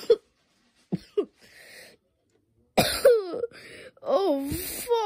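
Several harsh coughs in short bursts, separated by pauses, close and fairly loud, with a few voiced grunts between.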